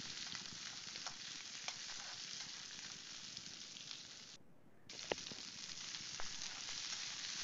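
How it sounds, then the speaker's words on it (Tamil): Garlic sautéing in a pan for garlic pickle, a steady close sizzle and crackle of frying that continues throughout with a brief dip partway and occasional small pops, no voices. "லேசாக இந்த மாதிரி கலர் மாறுற வரைக்கும் லேசாக இந்த மாதிரி வதக்கிட்டுங்க."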